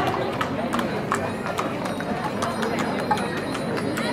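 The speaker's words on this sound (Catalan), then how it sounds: "ens porten cinc cavalls i un carruatge" Five horses pulling a carriage in a Sant Antoni street parade in Olot clatter along in steady, rapid hoof clip-clops, heard amid a noisy crowd while an announcer talks over a loudspeaker.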